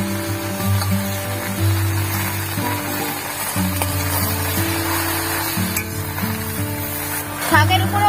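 Taro leaves hitting a pan of fried garlic in hot oil set off a loud, steady sizzle with stirring scrapes. It runs continuously throughout, with no talk over it.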